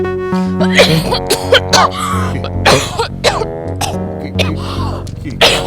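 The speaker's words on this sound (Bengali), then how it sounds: "আমাকে দেখে কাশি চলে আসলো" A few sharp coughs break out amid nearby talking and background music, the bursts loud and close.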